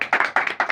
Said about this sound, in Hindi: यीशु अल मसीहा की दी हुई बरकत के लिए एक बार जोरदार तालियां